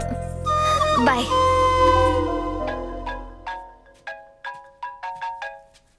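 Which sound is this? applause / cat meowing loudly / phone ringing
phone ringing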